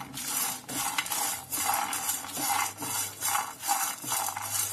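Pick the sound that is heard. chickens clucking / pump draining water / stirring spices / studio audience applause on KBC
stirring spices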